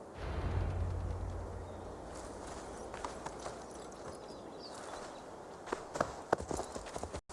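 Horse hooves clip-clop steadily in Assassin's Creed Valhalla as the rider moves through the untamed forest of Glowecestrescire, a moderate walking rhythm over a low ambient bed, with sharper, closer hoof strikes toward the end.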